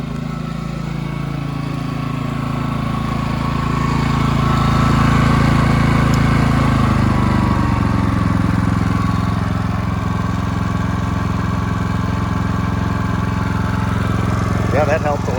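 A Powersmart 4400W inverter generator runs steadily in economy mode, a continuous low engine drone that settles to a lower, quieter pitch partway through, heard up close with no talking.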